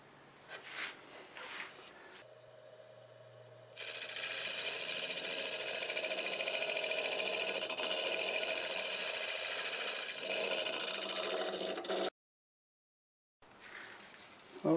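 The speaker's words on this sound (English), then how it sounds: "I'm going to take my negative brake scraper, I'm going to clean this up" Wood lathe spinning a segmented star bowl at about 1,000 RPM while a negative rake scraper cleans up the surface, giving a steady, loud hum and scraping drone that breaks off briefly near the end.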